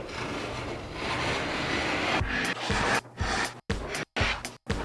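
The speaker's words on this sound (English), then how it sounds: "Give this a quick sand with some 150 grit sandpaper, just to smooth it over." Hand sanding of wooden trim with 150 grit sandpaper: a continuous close scratchy rasp for about two seconds, then shorter rubbing strokes broken by brief pauses.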